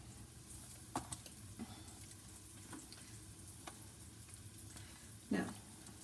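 Chicken frying in a pan, a soft steady sizzle at low level with a few scattered clicks and one louder knock near the end.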